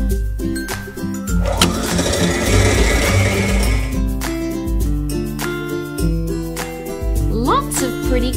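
A toy mixer from a toy kitchen playset whirs in loud, steady buzzing bursts that stop and restart several times, with a short electronic melody.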